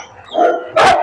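A dog on a farm barks twice, a shorter bark followed by a louder, sharper one, close by and with no talking.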